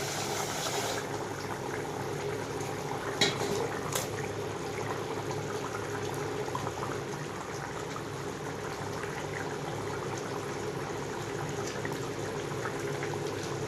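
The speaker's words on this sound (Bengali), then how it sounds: "ঝোলটা ফুটে গেছে, আলুটাও বেশ সেদ্ধ হয়ে গেছে।" A pot of fish curry broth with potatoes bubbles at a soft, steady boil, a faint continuous simmer with a couple of small clinks and no talking.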